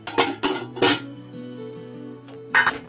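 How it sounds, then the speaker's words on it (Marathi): Metal clatters and clinks a few times as a lid is set onto a pressure cooker pot, leaving a ringing hum between the knocks. "त्याच्यावरती झाकण ठेवायचं"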